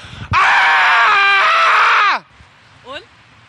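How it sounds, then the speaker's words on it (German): Man screaming loudly outdoors, one long, sustained, strained yell that breaks off sharply, followed by a shorter, quieter vocal groan. "Ich schrei mal."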